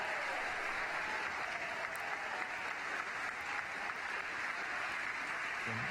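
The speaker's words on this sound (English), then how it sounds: "That clapping means it landed." Steady, dense clapping from a crowd during a SpaceX Dragon launch webcast, celebrating the Stage 1 booster landing on a drone ship; continuous and evenly sustained.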